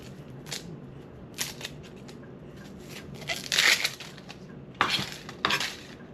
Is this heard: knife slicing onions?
yes